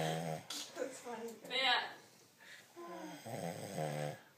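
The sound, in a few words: person snoring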